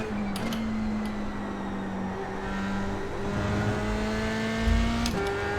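A Dallara F3 race car's engine holds a steady high-pitched drone at full throttle around Lime Rock Park in iRacing, loud and sustained with a brief gear-change dip near the end.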